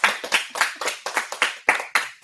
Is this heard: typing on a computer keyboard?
no